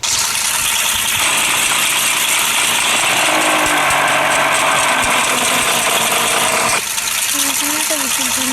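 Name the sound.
motorbike engine in video game Project Bangla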